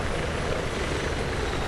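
A Viper attack helicopter in the video game Battlefield 3 drones overhead in a broad, steady rotor and engine roar that stays constant and dense without a break.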